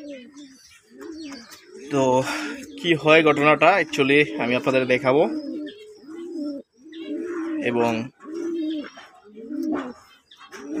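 Pigeons coo and chirp quietly in the background of a loft while someone talks continuously over them.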